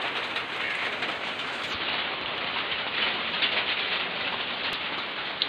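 Steady rain falls on a garden on a rainy morning, a dense, even hiss of drops on leaves and surfaces with no voices.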